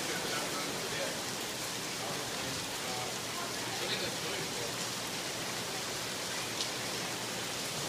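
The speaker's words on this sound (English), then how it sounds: "Everybody's out here looking at the rain." Steady, dense rain hisses evenly throughout, a continuous wash of falling water with no voices standing out.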